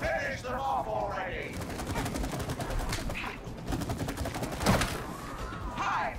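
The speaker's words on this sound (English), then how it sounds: "Keep shooting, bro." Rapid gunfire in the It Takes Two co-op video game, steady bursts of shots running through the whole stretch, mixed with game effects and excited talk from players.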